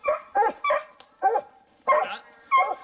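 Hunting dogs bark excitedly on a lion hunt, a rapid series of six or so loud, close barks and yips at a steady rhythm.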